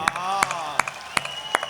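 Unison rhythmic clapping from the audience at a Hindi hasya kavi sammelan comedy poetry event: five sharp, evenly spaced claps under a sustained voice.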